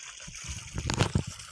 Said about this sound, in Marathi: इथं आता पाणी सोडलं आहे बागादारानं ताजं